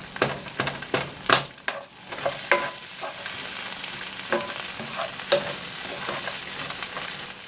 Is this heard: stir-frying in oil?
yes